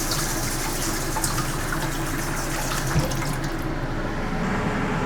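Water poured onto a plate set in a rice cooker, a steady splashing pour heard close up with no talk, tapering off toward the end.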